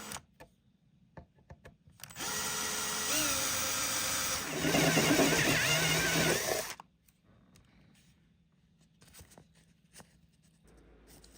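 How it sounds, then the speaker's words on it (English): A power drill whines steadily for about four seconds as it bores a switch hole into a guitar amplifier's metal chassis, its pitch shifting under load, then stops, leaving quiet handling noises. "I decided to drill the hole for the switch here."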